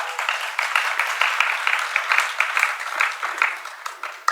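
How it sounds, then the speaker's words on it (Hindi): An audience at a religious discourse claps in a loose, continuous patter of many hands, moderately close and steady for a few seconds without a voice over it. "क्यों ताली तो बहुत देर के बाद बजा दिया।"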